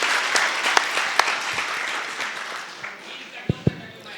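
Audience applause at the Karachi Literature Festival 2017 for Fahmida, a crowd clapping across the stretch, starting dense and fading toward a thinner patter, with a few sharp louder claps near the end.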